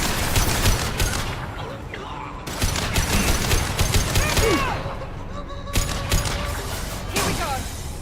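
Gunfire rattles in the video game Mass Effect 2, with repeated loud bursts and rapid volleys in close succession, broken by short pauses and mechanical whirs, with voices calling out between.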